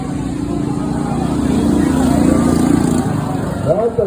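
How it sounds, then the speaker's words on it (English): A small mini bike engine screams at full throttle during a bracket race at a mini bike event in Wisconsin, its motor having run without oil, loud and steady with a slight rise and a second engine near the end. "He accidentally ran that motor without oil,"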